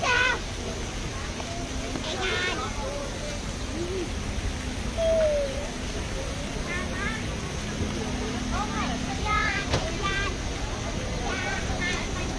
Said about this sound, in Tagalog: Pigeon.